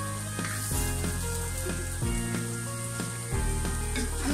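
Whole green chillies dropped into hot oil for a Bengali catfish and potato curry, giving a loud, steady sizzle with crackling bursts and a few stirring knocks, close up and with no talking.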